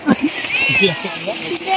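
A cat meows a few times close by, its cries mixed with people talking over it.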